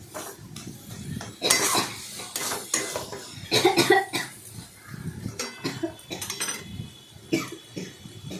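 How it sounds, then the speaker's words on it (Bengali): A metal spatula clatters and scrapes against a pan as shrimp is stirred into cooked taro leaves, giving irregular close clinks and scrapes with no talking. "কচুটা হয়ে গেছে, তার মধ্যে চিংড়ি মাছ দিয়ে দিলাম, দিয়ে ভালো করে নাড়াচাড়া করলাম"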